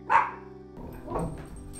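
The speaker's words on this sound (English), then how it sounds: "His dog's going a little crazy." A dog indoors gives one short, sharp bark, followed by a softer, rougher yip or whine, heard at moderate volume against a quiet room.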